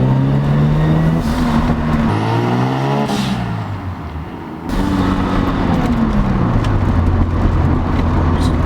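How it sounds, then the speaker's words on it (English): A Mazda RX-7's turbocharged rotary engine revs hard through several gears, with a brief hissing whoosh from an aftermarket blow-off valve as the throttle lifts between shifts, heard up close. "he also has an aftermarket blow-off valve on it that sounds like this."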